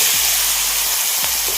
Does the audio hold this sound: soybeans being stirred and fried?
yes